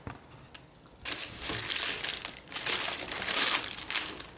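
The paper wrapping around a shawarma in laffa bread crinkles and rustles close by. Quiet handling gives way to louder, uneven bursts of crumpling.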